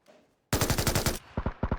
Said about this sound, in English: And we hear gunshots.